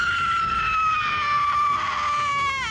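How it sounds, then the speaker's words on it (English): A woman shrieks in a long, sustained high scream on a horror film set, loud and close, wavering in pitch and breaking into a trembling quaver near the end. "The screaming has definitely taken a physical toll on me."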